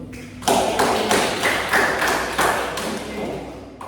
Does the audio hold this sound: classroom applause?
yes